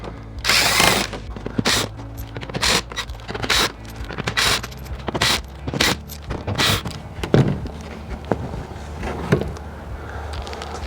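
A power tool backs out T25 Torx screws from an underbody panel on a Porsche Macan, whirring in a series of short, loud bursts mixed with scraping and rattling; no voices.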